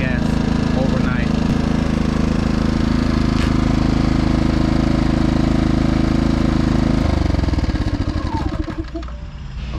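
Gas generator engine running loud and close with a steady putter, then shutting off near the end as the drone drops and fades out over the last couple of seconds.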